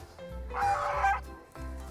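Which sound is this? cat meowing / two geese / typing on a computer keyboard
two geese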